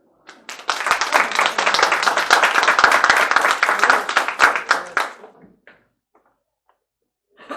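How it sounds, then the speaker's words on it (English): Club members at an installation dinner give a round of applause for incoming officers, a dense burst of clapping lasting several seconds before trailing off to quiet with a few scattered sounds. "I am going to ask that the club would recognize the incoming officers and members of the Alamogordo Club with a round of applause."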